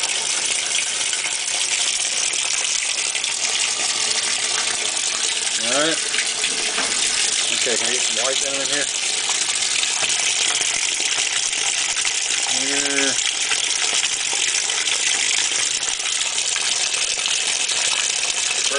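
Water pours steadily into the tub of a GE Hotpoint washing machine, a constant loud rushing hiss that runs the whole time while someone speaks briefly over it.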